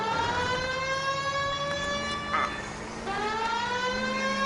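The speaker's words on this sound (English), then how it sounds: "It's hard to do the siren at the same time." Police car siren in the video game LA Noire, a loud wailing tone rising and falling in long sweeps, with a brief dip midway before the wail resumes, heard alone without speech.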